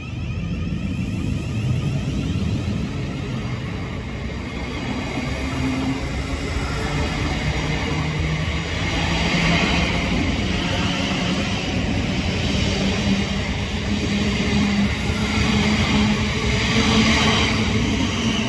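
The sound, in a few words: Southeastern Class 707 train arriving for Charing Cross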